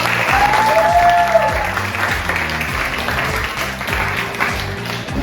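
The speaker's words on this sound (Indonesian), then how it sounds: "kita berikan tepuk yang meriah" A classroom audience applauds a group's presentation with steady, moderately loud clapping, over a low rhythmic background pattern and a brief high whistle-like tone.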